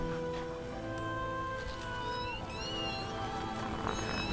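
A house cat meows in a few faint, drawn-out rising calls set against a busy indoor background with a steady hum. No one speaks.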